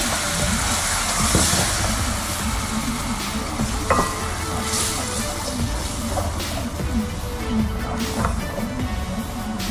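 Milk and margarine are stirred in a pan as they melt, giving a continuous loud sizzling, bubbling wash with occasional scraping clinks of the utensil.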